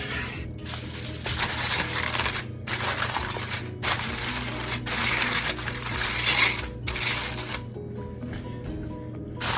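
Tin foil crinkles and rustles close by in repeated bursts as it is handled and torn over a meatball casserole, bright crackling textures separated by brief pauses.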